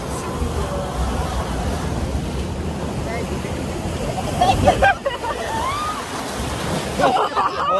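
Water splashes and rushes steadily at the Energylandia amusement park, a continuous wash of spray close by, with people's voices mixed in and a louder surge near the middle.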